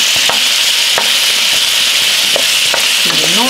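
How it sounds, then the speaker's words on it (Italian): Potatoes dropped into hot olive oil with garlic in a pan, a loud, close, continuous sizzle and crackle with faint stirring clicks throughout. "appena vedo che si formano le prime bollicine attorno all'aglio, butto in padella le mie patate"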